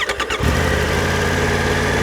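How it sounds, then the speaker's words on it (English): A Triumph Tiger 900 Rally Pro three-cylinder motorcycle engine cranks briefly, then catches and settles into a loud, steady, close idle. "get that nice sound of that 3-cylinder engine"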